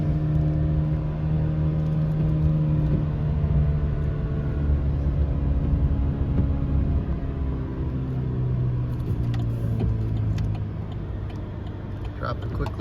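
A Chevrolet Silverado with a 2.7 liter engine engine-braking down a small hill, giving a steady low drone and rumble whose pitch slowly falls, with a voice talking over it throughout.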